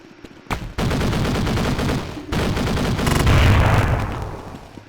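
Rapid bursts of automatic gunfire from Counter-Strike 1.6, loud and close, a short volley, a brief pause, then a longer sustained string of shots with no talk.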